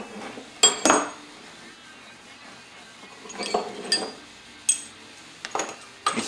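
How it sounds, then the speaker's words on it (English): Brake caliper halves being separated on a Jr Dragster: a handful of sharp metallic clinks and clanks in a quiet workshop, close and spaced irregularly. "Now I'll just take these caliper halves apart."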